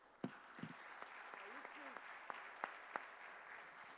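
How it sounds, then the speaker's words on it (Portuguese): Audience applause at a church revival conference, a steady wash of clapping from a crowd with a few sharper claps and faint voices calling out over it. "Vamos aplaudir, pessoal."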